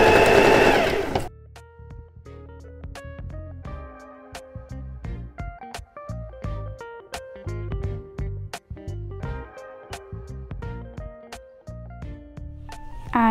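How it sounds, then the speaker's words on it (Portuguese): A sewing machine stitches the hem of a lace (lese) princess blouse. The needle runs in steady bursts with short pauses between passes, close and clear, with no talking over it. "Aí agora eu passo a costura fazendo a minha bainha"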